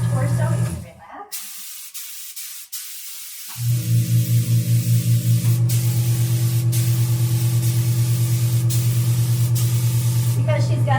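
An airbrush sprays tan solution onto a muscular woman's torso during a custom spray tanning session, giving a steady close hiss after a brief quiet gap, with a pulsing hum from the compressor underneath.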